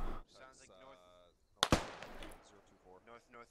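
A grenade blast in the military shooter Squad, a single loud sharp crack with a short decaying tail, surrounded by quieter speech before and after.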